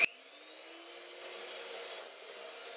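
A 365-watt electric mixer whirring steadily as it whisks egg yolks with sugar and hot water, starting with a sharp click and then holding an even motor drone close by.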